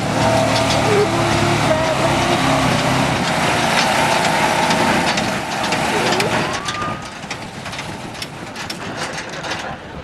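Stock truck at a 2010 truck pull hauling a 5,500-pound load, its engine a loud sustained roar that fills the clip, easing slightly toward the end amid crowd and outdoor noise.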